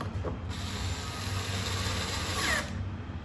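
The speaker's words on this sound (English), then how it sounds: "using your 25 bit, you're going to want to start by putting the longer of the screws in the front" A screwdriver with a 25 bit drives screws into a Onewheel main board, a close, steady mechanical whir with ratcheting texture lasting a few seconds before stopping.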